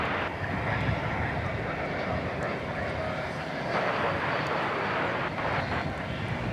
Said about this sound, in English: here comes the American flight from Atlanta, which I think has special liveries